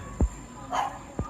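A dog barking, two short deep woofs about a second apart with a softer yip-like sound between them, close and moderately loud.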